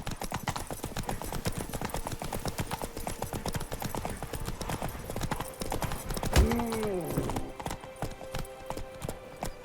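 Horse hooves gallop steadily in The Witcher 3, a fast, continuous clip-clop rhythm close by, with a brief whinny partway through and no talk.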